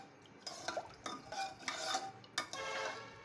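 A spoon stirring salt into rice in a pressure cooker for cumin rice, with scraping, clinking strokes against the metal pot in an irregular rhythm, close and moderately quiet.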